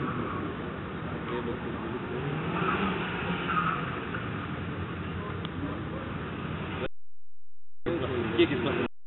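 A Mitsubishi Lancer rally car runs a slalom course, its engine droning and revving continuously at a moderate distance, with voices faintly mixed in and a short gap near the end.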